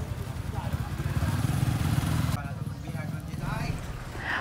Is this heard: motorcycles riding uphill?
yes